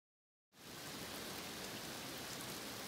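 Steady rain falls over a boat's anchorage in Panama's San Blas Islands during a lightning storm, starting abruptly after half a second of silence and then holding as a loud, even hiss with no voices.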